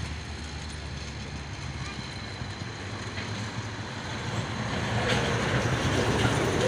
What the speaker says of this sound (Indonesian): Masuk lagi satu nih truk tronton Hino Lohan ini ya.